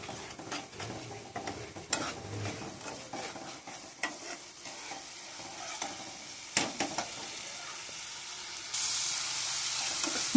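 Spices, including cumin powder and salt, stirred and fried in a pan: soft continuous sizzling broken by sharp spatula scrapes and clinks against the metal, close and fairly quiet.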